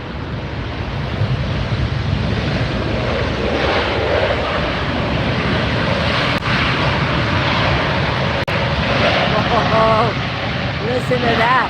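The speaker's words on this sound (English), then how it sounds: "If you like jet noise, this is the view for you." A brand-new Hawaiian Airlines jet roars loud and steady at Los Angeles International Airport, a continuous broad engine rumble with wind buffeting throughout.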